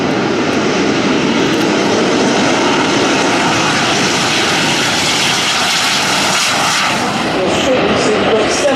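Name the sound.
Red Arrows jets taking off down runway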